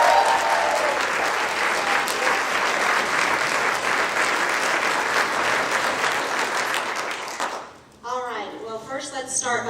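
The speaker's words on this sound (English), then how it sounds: "let's give a big round of applause to Brooke and the veterinarians." Sustained audience applause at a veterinary council panel for Brooke and the veterinarians, loud and dense for about eight seconds before dropping off into a voice speaking.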